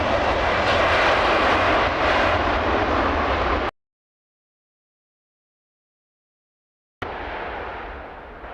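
Airliner landing at Heathrow with thrust reversers deployed: loud, broad jet roar filling the air, cut off abruptly, then returning and slowly fading.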